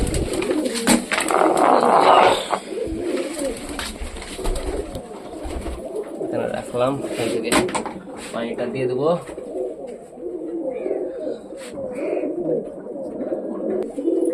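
Pigeons loosed from their loft in hot weather coo and flutter close by, a steady murmur of calls running throughout while someone speaks briefly over them near the start.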